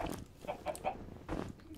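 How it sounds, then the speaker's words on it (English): Chickens in the game Minecraft clucking in short bursts, several choppy calls spaced through the moment, fairly close and clear with no talk. "Chicken down here too."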